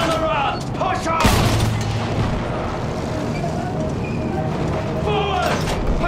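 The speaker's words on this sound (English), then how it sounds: "Use that machine gun! Mow them down!" Machine gun fire and explosions sound in the Battlefield 1 video game. Dense rumbling battle noise holds throughout, with a heavy boom near the start and shouting voices over the combat.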